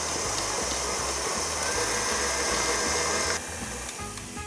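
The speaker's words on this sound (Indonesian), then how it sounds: "Kita kocok lagi minimal 5 menit dengan high speed." A stand mixer beats Swiss meringue buttercream at high speed with a steady, loud motor whine, and the bowl rattles and knocks rhythmically throughout before the drone drops slightly near the end. No one speaks.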